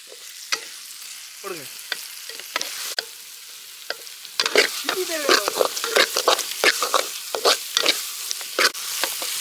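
Prawn thokku masala being stirred and fried in a pan, village-style cooking: irregular scraping stirring strokes over a steady sizzle, sparse at first and then busier and louder in the second half, with no talking.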